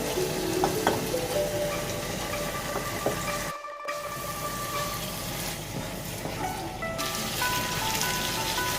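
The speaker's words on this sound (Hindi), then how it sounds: "अब इसमें हम चिकन डालकर चिकन को इस तरह से भुनेंगे।" Chicken frying in a pan with masala, tomatoes, green chillies and curry leaves, a steady loud sizzle broken by a few stirring scrapes and a brief quieter gap partway through.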